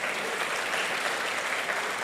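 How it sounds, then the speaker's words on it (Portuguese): A church congregation claps steadily during a sermon, a dense, continuous wash of many hands at moderate volume, with no voices standing out above it. "Vamos aplaudir Jesus por isso."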